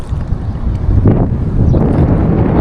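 Strong gusts buffet the microphone outdoors on a fishing trip near water, a loud, steady low roar with swelling surges and no one talking.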